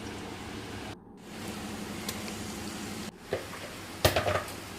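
Spices and mutton frying and braising in a pan, a steady sizzling hiss throughout with a few sharper crackles and spits near the end.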